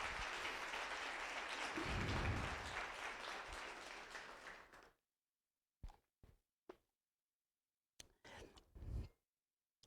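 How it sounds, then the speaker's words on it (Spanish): Church congregation gives a loud round of applause to the Lord during an Easter resurrection sermon, dense clapping for about five seconds that cuts off abruptly, followed by a few isolated short knocks and taps. "Dale un aplauso fuerte al Señor."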